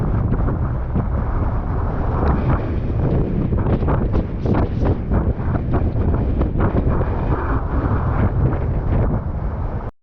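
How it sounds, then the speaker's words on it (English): Strong wind gusts on the coast at Playa Blanca, Lanzarote, buffeting the microphone with a loud, continuous roaring rumble that swells and eases slightly throughout. "how much this wind's picking up"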